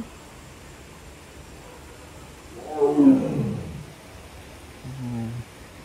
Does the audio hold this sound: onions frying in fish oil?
no